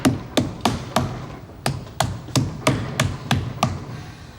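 A hammer taps in a kitchen, about a dozen sharp, evenly spaced knocks at roughly three per second, close and loud, with no talking.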